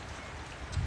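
Rain falling outdoors on an evening with horses nearby, a steady soft hiss of drops with a slightly heavier patter near the end, no voices.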